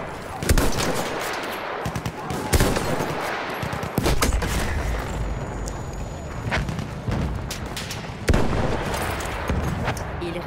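Machine gun fire in the video game Battlefield 1 during a multiplayer operation battle, sustained rattling bursts with several heavy booming impacts breaking through, loud and continuous throughout.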